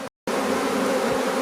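A dense, steady buzz of a honeybee swarm fills the clip after a brief dropout, loud and close as the bees move into a hive box.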